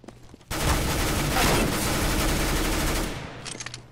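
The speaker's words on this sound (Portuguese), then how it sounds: "Tanto tiro, Zé." Sustained, dense automatic gunfire from Counter-Strike: Global Offensive on the Mirage map, loud and continuous for about two and a half seconds before cutting off, with a few faint shots trailing after.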